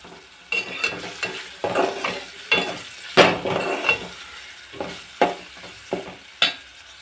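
Ridge gourd curry with ginger paste and turmeric cooks in a pan: a low sizzle runs under repeated clattering stirs and utensil knocks against the pot, close and irregular, with no voices.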